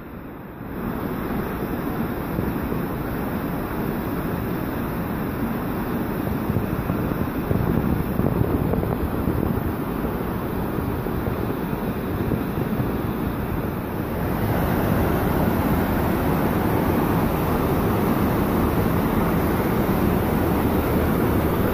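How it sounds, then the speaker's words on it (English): Steady, loud rushing river water in the Rheidol Valley, West Wales, roars continuously throughout, a broad wash of sound that swells slightly louder in the latter half, with no voices. "you can really sense the power of the water. It's getting a lot louder"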